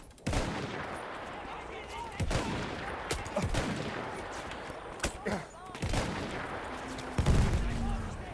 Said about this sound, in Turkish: Kanka bu adam nereden sıkıyor? Ah kaç. Taramalı ile sıkıyor ya.